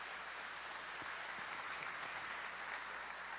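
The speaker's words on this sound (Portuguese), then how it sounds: "uma salva de palmas, obrigada" Church congregation clapping steadily during a sermon, a dense, even patter of hands filling the room without letting up.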